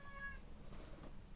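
A pet cat meows in a short, clear call with bright harmonic tones, close by in a quiet indoor room, with no talking over it.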